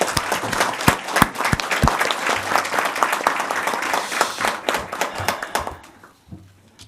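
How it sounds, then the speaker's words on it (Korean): Applause around the table at a South Korean cabinet meeting welcoming the new prime minister, a burst of sharp close hand claps that carries on for several seconds and then thins out and stops near the end. "우리 박수 한번 드릴까요?"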